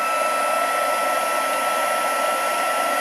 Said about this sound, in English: I'm going to heat up my tool, my heat tool, and then away from the pot, I'm going to melt the embossing powder